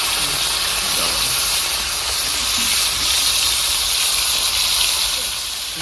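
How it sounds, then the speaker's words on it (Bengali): Raw tomato fries in hot oil, giving a steady, dense sizzling hiss close by that holds without a break. "আলুটা কিছুটা সরিয়ে দিয়ে এই তেলেই কিন্তু আমি কাঁচা টমেটোটা ভেজে নেবো"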